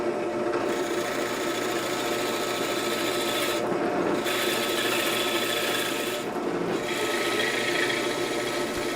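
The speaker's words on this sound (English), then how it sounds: "Here's the third hole for the other guide rod being bored." Steady grinding whir of a drill press boring a hole in wood, continuous for several seconds with two brief lulls as the bit eases off.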